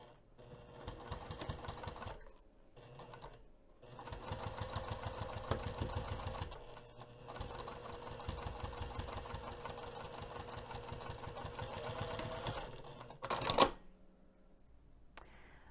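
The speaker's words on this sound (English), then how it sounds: "I'm going to take this back over to the sewing machine, and I'm going to stitch just the opening" A sewing machine runs in steady, fast rhythmic stretches while top stitching the opening of a cargo pocket for a bag, with brief pauses between runs and a sharp clack near the end.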